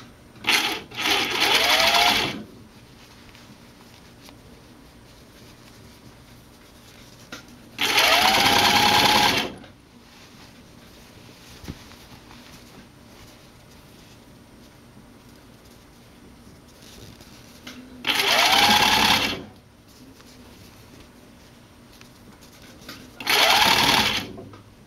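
A sewing machine stitches a Y back racer tank top in four short, loud whirring bursts, each lasting a second or two, separated by long quiet gaps.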